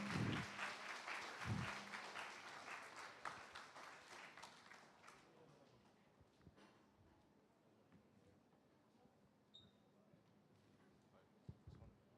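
A school club expo audience gives a round of applause for the club representatives, a burst of clapping that fades over several seconds into a quiet room with faint murmurs.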